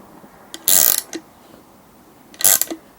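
A nylock nut is tightened on the threaded rod of a spring compressor used on Land Rover Defender front springs, giving two close bursts of harsh ratcheting and grinding with small mechanical clicks between them.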